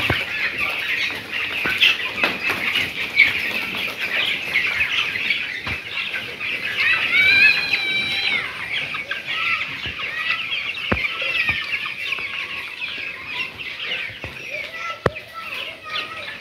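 Broiler chickens in a hot poultry shed keep up a dense, continuous chorus of clucking and chattering calls, with occasional wing flaps and brief rustles, close and steady throughout.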